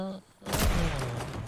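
A gunshot in a shooter video game bursts out loud and close after a brief lull, its blast trailing off into a noisy rumble, with a voice briefly heard at the start.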